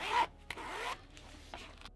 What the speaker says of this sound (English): Ooh, nice smooth zippers.